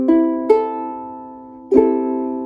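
Three bright strums sound on a properly tuned ukulele, the first two close together and the third after a pause, each chord ringing evenly and sustaining close up with no voices.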